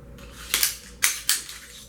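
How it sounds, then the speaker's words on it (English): The slide of a Ruger American 9mm pistol is slid on and off its polished stainless-steel rails, giving a few sharp, close metallic clacks and sliding scrapes spaced over under two seconds. "So putting the slide on and off"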